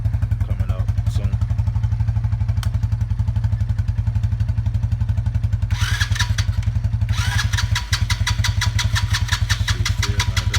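A Coolster 125 engine cranks on its starter without catching, a fast, steady mechanical chugging that runs throughout and pauses briefly near the end, with sharper clattering bursts partway through.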